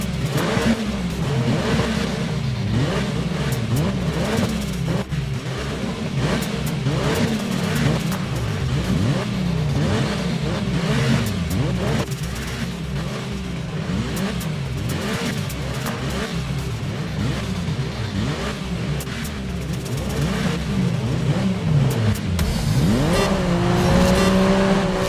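Several racing cars in the Grid Legends racing game rev and accelerate hard through repeated gear shifts, a loud continuous engine roar that rises and falls in a steady rhythm, with no talk.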